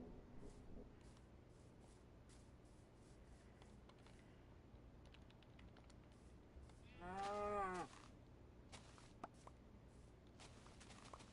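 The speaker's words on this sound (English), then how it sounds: "That's a cow." A Minecraft cow gives a single clear moo midway, short and pitched, over a quiet background with light clicks and shuffling before and after.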